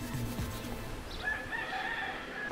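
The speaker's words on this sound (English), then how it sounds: "The roosters are everywhere, and they seem to not understand what the morning is." A rooster crows faintly in the distance near a mission in Baja California, a drawn-out call over steady outdoor background noise.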